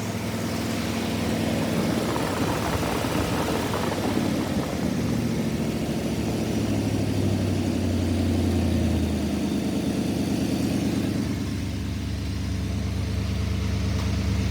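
A 1956 Ford Thunderbird engine runs steadily with an exhaust leak, a loud, close, continuous rumble with a low, uneven throb that eases slightly near the end.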